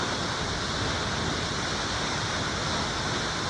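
Waterfall in Munduk, Bali, a steady loud broadband rush of falling water that fills the whole stretch without pause.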